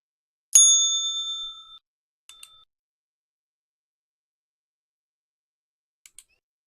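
A bell strikes once with a bright ringing tone that rings out for over a second, followed by a couple of quieter short dings and two faint clicks near the end, heard alone against silence.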